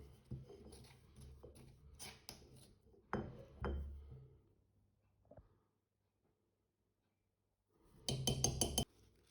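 A pestle pounds a traditional Catalan picada in a mortar, making clinking, knocking strikes in irregular groups, then a quiet gap and a fast closing flurry of taps.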